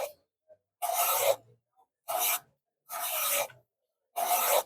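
A card scraper being sharpened with a file, four rasping strokes each lasting about half a second to a second, close and clear, separated by short silences.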